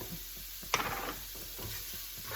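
Vegetables sauteing in a pot for ham and white bean soup give a soft continuous sizzle, with one brief utensil clink and light stirring sounds.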